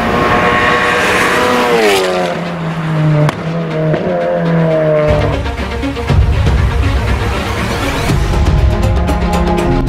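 Volkswagen Up GTI, Polo GTI and Golf GTI engines roar and rev loudly, pitch sweeping up and down through gear changes as the cars race close by on the Ascari racetrack.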